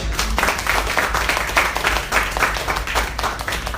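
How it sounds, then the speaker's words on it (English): A room of webinar attendees at an entrepreneurship incubation event claps steadily throughout, a dense, even patter of hands at close range with no talking over it. "can we give a round of applause to yourselves"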